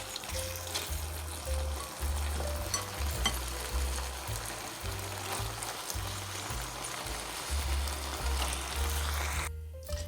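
Cheeseburger casserole mixture is stirred in a pan on low heat, with a steady sizzle and soft scraping running continuously throughout, and no talking.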